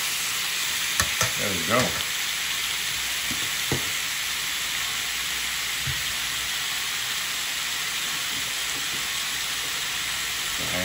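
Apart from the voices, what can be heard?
chicken cooking and sizzling in a pan for cheesesteak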